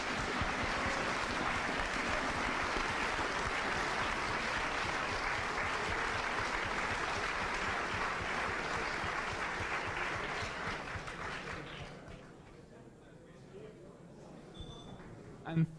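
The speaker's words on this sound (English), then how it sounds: "they really deserve a big applause from your side" Strong, sustained applause from a crowd at a programming contest closing ceremony, honouring the coaches as a dense wash of clapping that holds for about ten seconds. It then gradually thins and fades to near silence.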